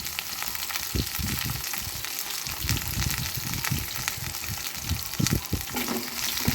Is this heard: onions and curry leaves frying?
yes